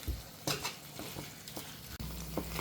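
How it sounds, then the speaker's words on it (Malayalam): Chicken roll filling being stirred and mixed in an oiled pan, a soft continuous sizzle with light scraping strokes of a spoon, close and fairly quiet. "എന്നിട്ടൊന്ന് മിക്സ് ചെയ്ത് കൊടുക്കാം"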